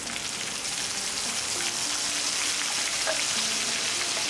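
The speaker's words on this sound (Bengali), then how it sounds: "এবার এই তেলেই দিয়ে দিচ্ছি ব্লেন্ড করে রাখা পেস্টটা" Blended spice paste hits hot oil that was just used to fry prawns, giving a dense, steady crackling sizzle, loud and close with no talk over it.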